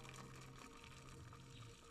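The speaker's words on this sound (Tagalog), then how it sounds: "Ilagay na natin yung ating tubig na mainit para matunaw na siya." Hot water is poured over sugar to make brine for pickled mango with garlic, a faint, steady liquid rush running without interruption.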